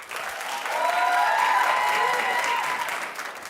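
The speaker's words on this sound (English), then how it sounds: "clap if you watched Fashion Police last night." Studio audience at a daytime talk show claps and cheers in a loud, sustained swell that peaks midway and tapers slightly at the end.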